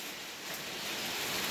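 Steady rain falling outdoors as a soft, even hiss that continues throughout with no breaks and no other sounds standing out.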